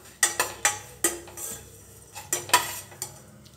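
Flattened rice (aval) is dry-roasted and stirred in a pan, giving a series of sharp scraping and tapping strokes of a spoon against the metal at an irregular rhythm, close and fairly loud.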